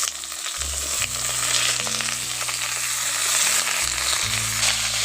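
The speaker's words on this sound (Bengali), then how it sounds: "এবার এর মধ্যে দিয়ে দিচ্ছি কেটে রাখা শসাগুলো ওর মধ্যে দিয়ে ভালো করে ভেজে নেব।" Cucumber and potato pieces frying together in a pan, a dense close sizzle running throughout with a low hum, no voices.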